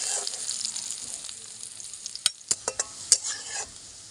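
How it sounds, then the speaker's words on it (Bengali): Food fries lightly in a pan over low heat with a steady, soft sizzle, then a few sharp utensil clinks and stirring knocks near the end. No one speaks. "এবার আঁচটা কমিয়ে খুব কম আঁচে একটু হালকা করে ভেজে নেব।"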